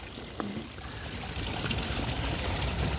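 Water trickles and splashes steadily from a garden pond waterfall, a soft, continuous close-up flow with no voices.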